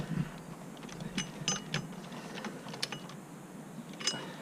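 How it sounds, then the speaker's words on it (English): Ratchet or wrench clicks while the bolts on a Volvo XC70 power steering pump are tightened, a scatter of sharp, close metallic ticks at an irregular rhythm with no talking. "Right, let's tighten it all up now."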